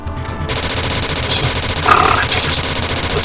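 Rapid continuous bursts of gunfire from turrets in the video game Target Earth, a rattling stream of shots with a brief sharper burst midway, loud and unbroken with no voice over it.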